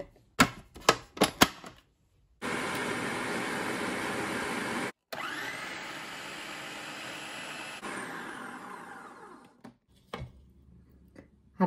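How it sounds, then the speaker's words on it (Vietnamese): An electric chopper minces onion, shallot and garlic, starting with a few sharp knocks, then running in two long, loud, steady whirring bursts separated by a brief stop before it winds down. "Hành tỏi mình băm bằng máy nè."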